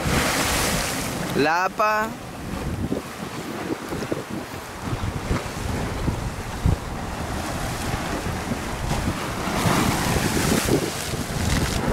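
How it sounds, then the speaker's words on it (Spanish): Heavy surf rolls and crashes along a rocky beach, a steady roar of waves mixed with gusting wind on the microphone, with a voice speaking briefly near the start. "Porque hay oleaje hoy, chicos. Mucho oleaje."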